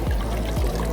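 Water is poured into a bottle to rinse it out, a close, continuous gurgling pour filling the whole second.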